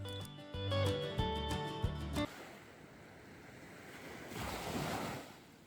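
Gentle ocean waves rolling onto a sandy beach on the east coast of the Eyre Peninsula, a soft, low wash and hiss that swells near the end, preceded by a few seconds of tonal music.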